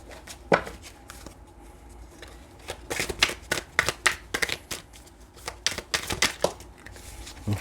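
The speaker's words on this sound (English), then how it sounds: "here's our last shuffle." Tarot cards are shuffled repeatedly up close, a run of crisp riffling bursts with brief pauses between them.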